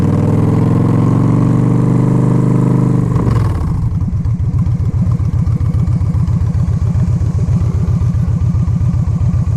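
A 2011 Victory High Ball bobber motorcycle engine runs loud and close throughout, starting with a steady idle-like drone, then dipping and settling into a rapid pulsing thump as the ride continues.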